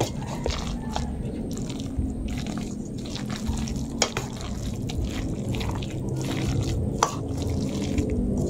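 Cassava flan mixture being stirred in a bowl, a steady wet swishing and sloshing with soft liquid drips and a couple of sharper clicks, close and continuous throughout.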